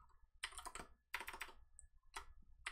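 Quick bursts of keystrokes on a computer keyboard, three clustered runs of close, crisp clicking separated by short silent pauses.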